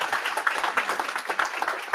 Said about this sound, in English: Round of applause for Chuck